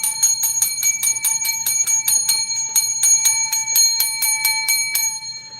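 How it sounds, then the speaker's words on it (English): A small metal bell is struck in a rapid, steady series of bright ringing dings, about fifteen strikes, loud and close, each tone decaying quickly, with no voices. "So let me grab the bell really quick, my friends."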